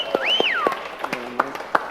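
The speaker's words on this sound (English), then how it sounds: "give him a applause" A quiz-show audience gives a brief round of applause for a contestant, a short spell of clapping heard under a voice.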